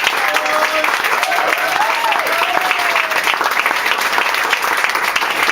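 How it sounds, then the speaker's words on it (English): An audience claps for a visiting baseball team at a going-away party and fundraiser, steady dense applause filling the room throughout with a faint whistle and murmur of the crowd underneath. "I'd like to give you a round of applause."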